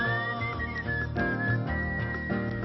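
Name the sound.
whistling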